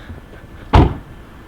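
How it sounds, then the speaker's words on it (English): Honda S2000 roadster with a soft top, supercharged Spoon Sports build, having its door shut: a single short, solid thud near the middle, alone against quiet background. "Just close the door for you guys to have a look at it."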